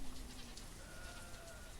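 Goats bleating in the village-building game Banished, a short, faint cluster of thin, wavering bleats over a soft background hum.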